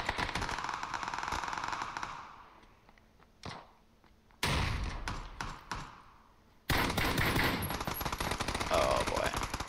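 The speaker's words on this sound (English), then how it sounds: "The gun is really inaccurate with the hip fire" Bursts of rapid gunfire from hip firing in the video game PUBG, loud dense volleys broken by short gaps and a few single shots, with some talk mixed in.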